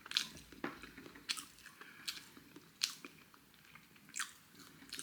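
Close, quiet bites and soft chewing of sweet potato, a few separate moist crunches spaced about a second apart, with no talk.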